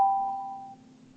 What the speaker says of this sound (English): It's like a doorbell.